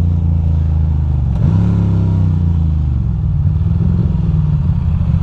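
A Ducati motorcycle with suspected spark plug trouble idling roughly, then given a quick throttle blip that swells and settles back into a loud, close, uneven idle.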